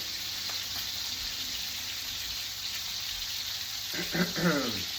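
Pork chops frying in oil in a pan give a steady soft sizzle with faint crackles, plus a brief clatter of utensil movement near the end.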